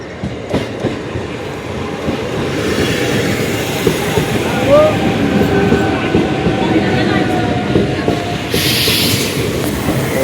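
A train runs steadily on the rail line near Balagarh station after Jirat, its rumble and clickety-clack loud and continuous, with a brief wheel squeal midway and a hiss toward the end.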